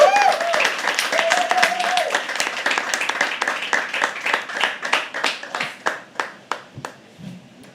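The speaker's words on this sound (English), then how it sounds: "Guys, don't feel shy to clap." An audience at a live poetry open mic claps after a poem: dense, even applause at first that thins into fewer, louder, separate claps before fading out.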